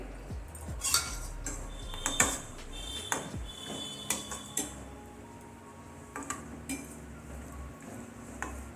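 Almonds and cashews fry in a pan, heard as faint, scattered clinks and taps of a spoon against the metal over a low background hiss, with no talking.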